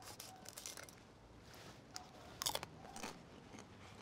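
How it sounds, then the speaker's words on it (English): Crispy skin on a smoked fried turkey crunches faintly as it is bitten and torn, with a few crisp crackling bursts clustered near the middle over quiet background. "I heard that crunch."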